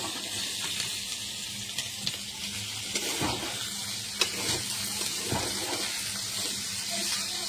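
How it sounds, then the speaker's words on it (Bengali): Potatoes frying in hot oil in a home Bengali kitchen give off a steady, moderately quiet sizzle and hiss, with a few soft clinks and stirring scrapes scattered throughout. "আলুটাকে ভেজে নেব"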